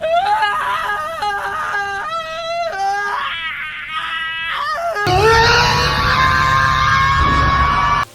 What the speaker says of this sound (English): Just hearing these screams that are coming out of these characters going into these awful situations